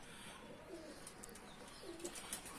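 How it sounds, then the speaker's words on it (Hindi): A Ferozpuri pigeon cooing softly, a couple of low rolling coos close by in a quiet setting with faint chirps in the background. "ये कबूतर है फिरोजपुरी"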